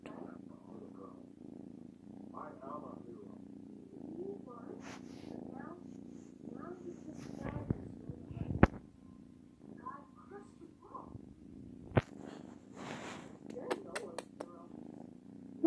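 A soft, steady low purr from a sleeping kitten continues close by, with quiet talking and a few faint clicks and rustles over it.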